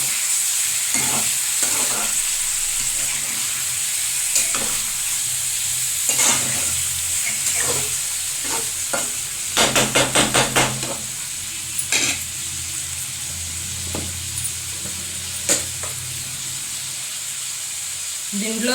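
Chicken curry in a pan gives off a constant close sizzle, broken by irregular spoon-scraping stirs, with a quick flurry of strokes midway.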